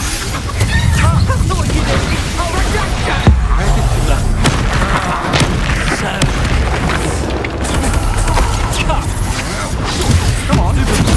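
Spell combat in Hogwarts Legacy, Incendio and Levioso cast in turn, fills the scene with continuous loud booms, crashes and bursting pops, a dense battle din with a few sharper hits, while voices speak over it.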